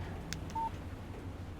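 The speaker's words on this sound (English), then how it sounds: "Text message from Barry" A phone text message alert from the Alan Wake video game gives a short, faint electronic beep, a single brief tone over low background ambience, preceded by a couple of soft clicks.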